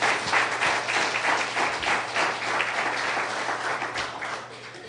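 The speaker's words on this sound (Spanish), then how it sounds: "Dale un fuerte aplauso a nuestro Señor." A church congregation applauds during a Spanish-language sermon: a full, even wash of many hands clapping at once, sustained for several seconds over a low steady hum.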